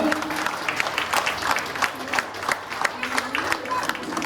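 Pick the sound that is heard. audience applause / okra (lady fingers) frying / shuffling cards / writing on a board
audience applause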